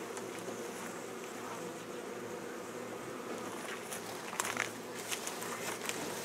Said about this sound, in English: there's not very many bees in there